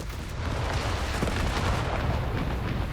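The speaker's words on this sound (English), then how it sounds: "Designated artillery overwatch though brought in on the bunker." Artillery overwatch strike landing on a bunker during a Company of Heroes 3 2v2 battle, a steady rumbling barrage of dull booms and blasts layered over continuous battlefield noise for the whole stretch.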